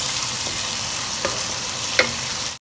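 Spiced masala with tomato fries in a pan with a loud, steady sizzle close by, broken by a couple of faint spoon scrapes before it cuts off abruptly.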